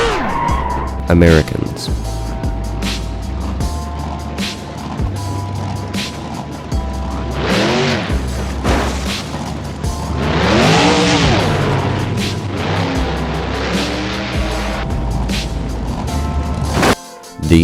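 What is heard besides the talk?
street racing cars skidding and revving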